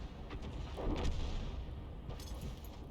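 Tank cannon fire in a World of Tanks-style battle game, a muffled heavy boom with a rumbling tail heard over continuous low battle noise, followed by a fainter second report.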